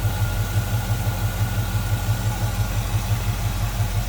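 A 1954 Chevrolet 3100 pickup street rod engine idles smoothly and close by, its low, steady throb pulsing evenly throughout.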